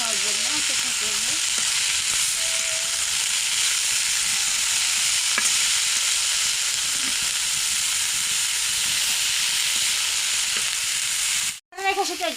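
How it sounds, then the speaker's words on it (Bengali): Radish greens fried in a pan, a loud, steady sizzle and crackle filling the whole stretch with faint stirring scrapes, close up and without talk until a brief cut near the end. "হালকা ভাজা হওয়ার জন্য চেষ্টা করবো।"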